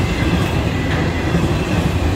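A Florida East Coast Railway freight train, FEC 206, rolls past in a steady, loud, continuous rumble with faint rail clatter, no voices.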